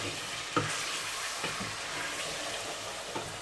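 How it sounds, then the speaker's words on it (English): Rabbit meat sizzles and spits in hot oil in a pot while a spoon stirs it, with steady frying hiss and a few soft scraping knocks, close and fairly loud. "drop in the rabbit. It'll spit a little bit, but it's supposed to. Quickly stir that around so it doesn't stick to the bottom."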